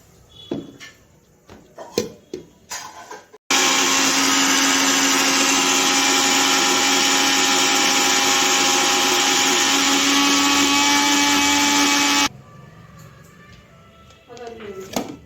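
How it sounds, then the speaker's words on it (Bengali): A kitchen mixer grinder blends onion and garlic into paste, roaring at a loud, steady whine for about nine seconds before cutting off abruptly, with quieter handling clatter and talk before and after. "কিছু পেঁয়াজ আমি মিক্সিতে পেস্ট করব"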